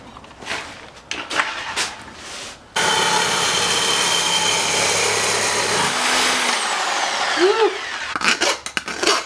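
A Sawzall reciprocating saw cuts intercooler piping close up, starting after some handling clatter and running in a steady, loud, grinding buzz for several seconds before stopping, followed by scattered clanks and knocks.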